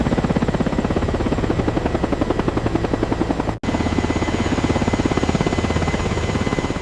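A CH-53K King Stallion heavy helicopter flying, its rotor producing a loud, steady rapid chop with a dense engine roar, continuous and close apart from a momentary dropout partway through.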